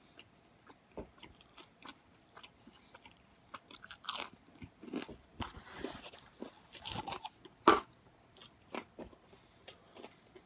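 Close, crisp crunching and biting on homemade bacon strips, irregular bites and chews spread across the stretch with no talking.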